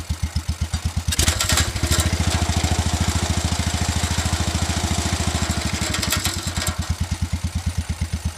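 Engine of a 1978 Wheel Horse C81 garden tractor running close by, a loud steady chugging idle with a fast even pulse throughout, briefly rougher near the start, with no talk.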